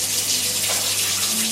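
Warm water pours steadily from a tap for bread machine dough, a loud, continuous close-up gush with no voices.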